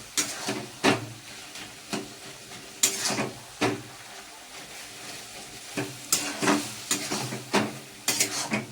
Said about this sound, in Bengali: কড়াই শাক দিয়ে মাংস তরকারিটা বসিয়ে দিয়েছি একটু সেদ্ধ হবে